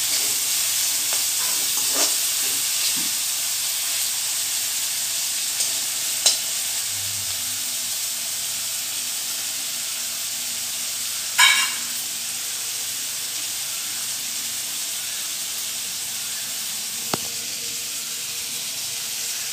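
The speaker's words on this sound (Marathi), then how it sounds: "असं ब्राऊन कलर होईपर्यंत आपल्याला भाजून घ्यायचा आहे कांदा।" Two finely chopped onions fry in a pan, giving a steady close sizzle and hiss throughout with a few small pops and crackles, no one talking.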